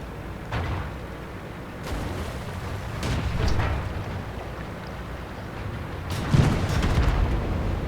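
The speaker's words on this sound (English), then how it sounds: "Let's see if we can get some artillery fire here" Heavy artillery shells and explosions in World of Tanks, a tank battle game, with scattered dull booms and a louder blast toward the end over a rumbling battlefield background.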